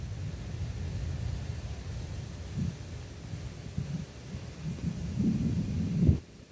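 Low, distant thunder growls through a severe thunderstorm in southeastern Pennsylvania, with a soft continuous rumble, a few swells and a short louder peak near the end, and no voices.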